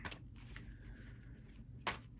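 Tarot cards being shuffled, a few soft riffling bursts and slides, quiet and close, with a sharper snap of cards near the end.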